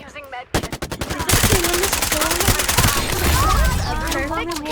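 Dense automatic gunfire in the video game Farlight 84, rapid loud bursts blending into a continuous fusillade, with a character's voice lines and game sound effects over the shooting.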